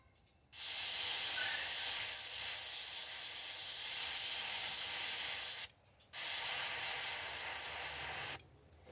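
Airbrush spray painting a bluegill pattern onto a fishing lure, two long, steady bursts of close, airy hissing separated by a short pause, with a brief gap of near silence at the start and end.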